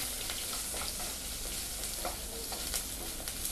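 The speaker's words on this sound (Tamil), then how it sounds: "இதையும் போட்டு நல்லா வதக்கிக்கலாம். நல்லா வதக்கிக்கோங்க." Ponnanganni keerai greens are sautéed in a pan with crushed onion and garlic, producing a constant loud sizzle with scraping and stirring sounds throughout and no voices.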